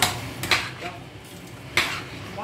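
Spoon scraping and clinking against a pot of matembele (cassava leaves) as it is stirred, two distinct louder scrapes about a second apart over a soft background rustle, close by.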